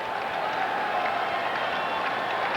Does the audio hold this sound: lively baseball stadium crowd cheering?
yes